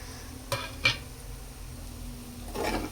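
Roasted peanuts stirred into a spicy okra curry in a pan, giving a few soft scrapes and clinks of the spoon against the pan over a faint low sizzle, close by with no talking.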